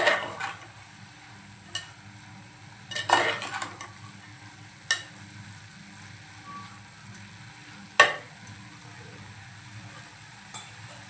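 A spoon scrapes and clatters against a cooking pot while dal palak with turmeric and Malvani masala is stirred, giving a few scattered knocks over a faint, steady background hiss.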